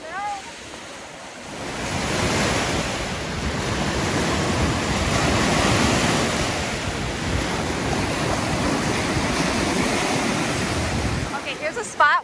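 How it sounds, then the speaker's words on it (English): Lake waves wash onto a beach at Leamington, Ontario, a broad steady rushing surge that swells and lingers, with wind buffeting the microphone and brief voices at the edges. "Here comes the water."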